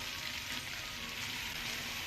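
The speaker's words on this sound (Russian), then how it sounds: "Выкладываем стручки чесночные стручки и сельдерей, и зубчики чеснока, которые мы порезали мелко." Garlic stalks, celery and finely chopped garlic cloves fry in a pan for lagman, giving a continuous soft hiss and sizzle that stays faint and even for a couple of seconds, with no voices.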